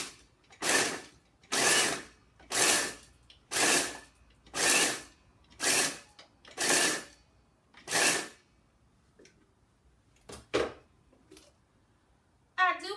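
Food processor pulsing bacon bites into smaller pieces for a cookie mix, eight short even bursts of blade whir in a steady rhythm, close and fairly loud, then a few scattered knocks and a brief voice at the end.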